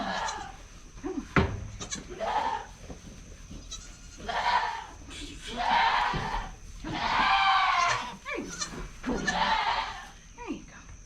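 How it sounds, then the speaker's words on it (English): A goat bleats repeatedly on a farm around a newborn kid's birth, a series of loud, close, wavering cries with short gaps between them, amid some handling noise and brief human voices. "It's funny that this new goat is the same size as Jane already."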